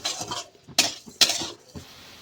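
Semolina filling with sugar being stirred in a pan over a low flame, with a few distinct scraping clinks of a utensil against the pan among soft rustling, close and fairly quiet.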